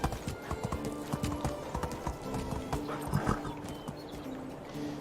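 Horse hooves clip-clop in a rhythmic gait in the Medieval Dynasty game, a steady run of close, distinct hoof strikes with an occasional faint whinny, no voices over them.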